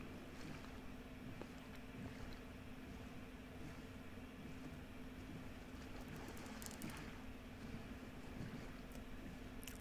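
Steady splashing and rippling water from a rowed boat in a Minecraft survival world, heard near a lighthouse as a continuous wash with faint wind noise and no talking.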